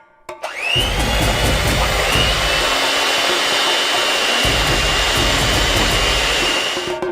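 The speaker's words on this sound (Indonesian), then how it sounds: "kita memutuskan untuk menggunakan mixer seperti ini, yang membuat semuanya menjadi lebih baik" An electric mixer switches on and runs steadily at high speed, whipping egg whites in a bowl into foam, with a continuous loud, close whir and no talking.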